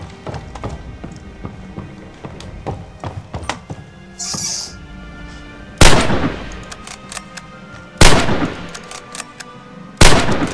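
Rifle gunfire in the video game Red Orchestra: three loud, sharp shots spaced about two seconds apart, preceded by a busy run of quieter clicks, thunks and distant battle noise.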